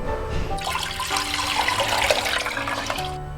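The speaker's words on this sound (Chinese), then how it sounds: "准备一个砂锅，倒入剩下的姜汁，再加入1碗清水，" Bowl of water poured into a clay pot holding ginger juice, a steady splashing, gushing pour lasting about three seconds, close and fairly loud.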